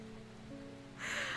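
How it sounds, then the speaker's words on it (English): Gentle rain falls outside the windows in the video game Strange Horticulture, a soft, quiet patter under a faint low hum, with the hiss of rain swelling noticeably louder partway through. "The gentle rain is falling outside the windows."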